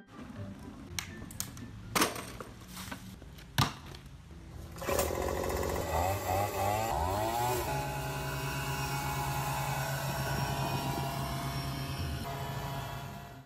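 A few clicks and knocks, then a small leaf blower engine starts up with a loud, steady buzzing drone that continues without pause, propelling a mop bucket vehicle.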